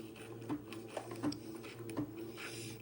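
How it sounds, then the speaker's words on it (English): A sewing machine runs a seam with a 3/8 inch allowance, giving a soft, steady mechanical whir with faint rhythmic needle ticks, close and quiet, with no talking. "I'll sew this seam with a 3/8 inch seam allowance."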